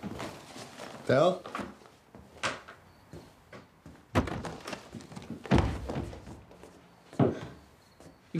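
Knocks on a door come as several sharp, loud thunks spread across the stretch, mixed with brief voices and other rustling room sounds.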